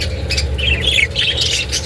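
A rainbow parakeet in a breeding setup gives shrill, raspy squawks and chirps in short bursts, close by, over a low background hum.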